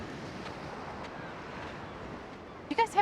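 Ocean waves breaking on an open beach, a steady soft wash of surf and wind that stays low and continuous, with a few faint brief sounds near the end.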